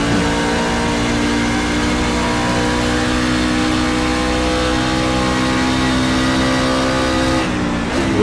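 Rookie class racing trucks accelerate hard at the Watkins Glen circuit, a loud sustained engine roar with rising harmonic whine that holds for several seconds before cutting off abruptly near the end.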